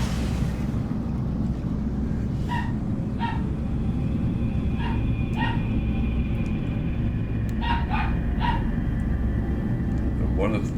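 A small dog yaps and barks in short sharp bursts, a few scattered yips then a quick cluster near the end, over a steady loud rumbling background.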